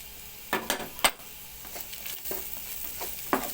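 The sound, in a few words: minced garlic sautéing with Alexandrian sausage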